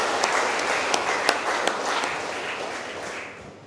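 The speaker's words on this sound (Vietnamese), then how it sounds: "chúc mừng anh Thỉnh, chị Vân Anh và hai bên gia đình bằng một tràng pháo tay" A congregation applauds at a Catholic wedding mass in a church, a steady wash of many hands clapping close by that slowly fades out.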